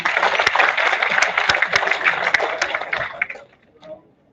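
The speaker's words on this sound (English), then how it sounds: "Let's have a huge round of applause for Mr. Roy." An audience applauds a speaker at an international conference, with sharp scattered claps over a continuous bed of clapping that thins out and fades to near silence after about three seconds.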